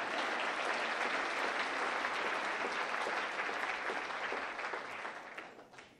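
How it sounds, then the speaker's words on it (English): A university audience at a State of the University address claps for a new student trustee, dense and steady crowd applause that holds full strength for several seconds before fading out toward the end. "You can clap for Rocco Core because he's the newest one"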